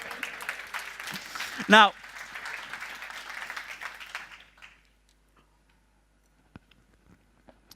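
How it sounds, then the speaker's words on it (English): An audience at a software demo for Domino V10 claps in a burst of applause lasting a few seconds, with a sharp loud clap near the start, fading out into near silence while a presenter briefly speaks. "So I wasn't expecting an applause right there."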